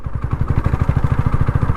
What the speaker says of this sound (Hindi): तो गिड़ गिड़ आवाज़ इस तरीके से आएगी, और ज़्यादा ही बिल्कुल स्लो हो गई फिर तो बंद ही हो जाएगी बाइक।